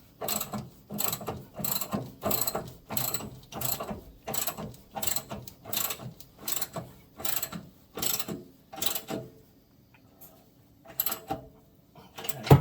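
Ratchet tightening bolts on a John Deere Gator 865 synchronous drive belt: a steady series of close, sharp clicking strokes in regular rhythm, pausing briefly near the end before a few more clicks.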